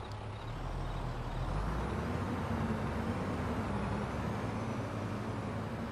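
The engine of a big grain truck in the Farming Simulator 22 game on the Taheton County map rumbles in a steady low drone, loud and close, with no one talking.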